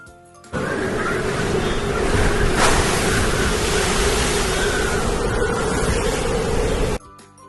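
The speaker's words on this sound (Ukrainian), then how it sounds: "Правильно, це сильний вітер." A loud, roaring rush of strong wind blows steadily for several seconds and then cuts off abruptly.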